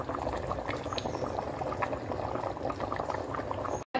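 Fish curry bubbles in a pot at a steady boil, a dense, continuous simmering crackle heard close and alone, cutting out briefly near the end.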